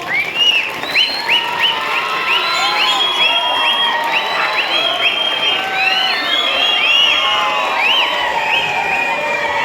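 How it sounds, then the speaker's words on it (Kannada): Schoolchildren clap loudly at a higher primary school distribution ceremony in Arakalagudu, giving dense, sustained applause mixed with high-pitched shouts and cheers from the crowd. "ವಿದ್ಯಾರ್ಥಿಗಳು ಜೋರಾದ ಚಪ್ಪಾಳೆಯನ್ನು ತಟ್ಟುವ ಮೂಲಕ ಎಲ್ಲರಿಗೂ ಕೂಡ"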